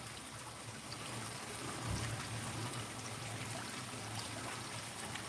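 Gentle water trickling into a garden pond outdoors in the sun, a steady soft wash of running water with a low hum underneath, continuous and fairly quiet throughout.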